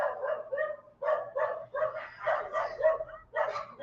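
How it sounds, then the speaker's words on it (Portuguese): A dog barking below an apartment building, a rapid series of about nine sharp, yelping barks in quick rhythm, moderately close and heard alone. "Vocês estão ouvindo barulho de cachorro berrando aí?"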